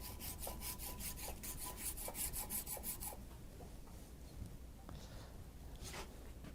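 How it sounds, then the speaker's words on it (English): A hand tool rasps and sands unwanted bumps off a plaster cast being shaped for a custom TLSO brace, giving steady, close scraping strokes in a rapid rhythm for about three seconds before easing into quieter rubbing. "we'll use this tool right here, try to get rid of unwanted bumps, and we kind of sand it away"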